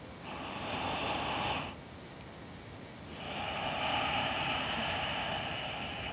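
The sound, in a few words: ujjayi breathing through the nose with constricted throat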